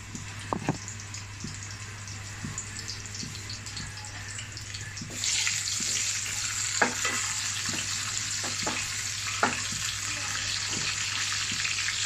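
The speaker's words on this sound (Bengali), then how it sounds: "আমার রসুনটা আর পাঁচফোড়নটা হয়ে গেছে" Garlic and panch phoron spices sizzle steadily in a hot pan, with occasional scraping stirs and clicks; the frying hiss grows louder midway and carries on to the end with no voices.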